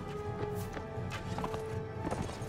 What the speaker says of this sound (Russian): Эти на лошадях, те на лошадях, эти мечутся.